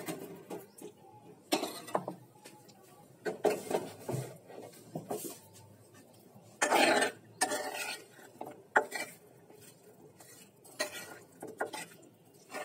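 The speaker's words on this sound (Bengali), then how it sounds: "এখন এগুলাও ভালোভাবে মাখিয়ে দেব।" Pieces of rohu fish and radish are mixed by hand in a bowl for chorchori, giving intermittent close clinks and soft squelching knocks in an irregular rhythm.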